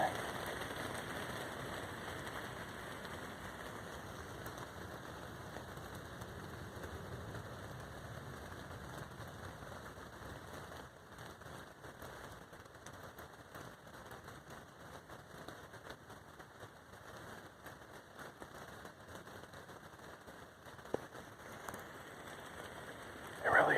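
Steady rain patters on leaves outdoors, a dense, continuous hiss lasting throughout with no voices, holding an even level until a brief louder rustle at the very end.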